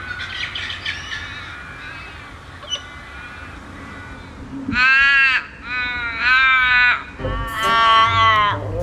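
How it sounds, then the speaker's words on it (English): Several loud, drawn-out Australian raven caws come in a series after quieter bird calls, harsh and near, with short pauses between them. "at the top of the list is one often lumped in with crows. The Australian raven is bulkier"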